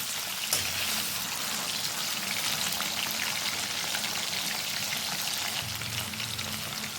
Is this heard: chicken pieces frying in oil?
yes